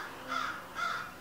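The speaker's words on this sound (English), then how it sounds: "Oh my god, those birds, man, shut up." Two loud crow caws from birds outside a window, evenly spaced and close, with no talk over them.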